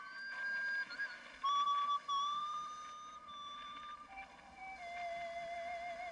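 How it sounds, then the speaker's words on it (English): A man whistles a slow, wavering tune on his own, the pitch gliding between sustained notes, heard faintly and at a distance with no talking. "It was a man's whistling."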